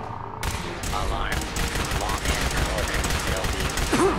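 Rapid bursts of gunfire in Fallout 4, loud and continuous, with electronic effects layered over the shooting.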